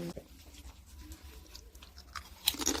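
Crispy purple sweet potato vegetable chips are chewed up close with soft, quiet crunches in an irregular rhythm, ending in a couple of sharper bites.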